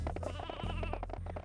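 Sheep bleat repeatedly in the Sheep Blasters arcade game in Ratchet and Clank Going Commando, several wavering baa calls in quick succession over a low droning game tone, close and steady in level.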